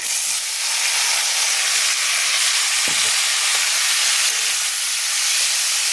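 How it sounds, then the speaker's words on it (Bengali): Masoor dal frying in hot tempering oil, a continuous loud, bright sizzle and hiss from close by, with one brief stir knock in the middle and no talk. "বেশি ভাজবো না, হালকা ভাজবো।"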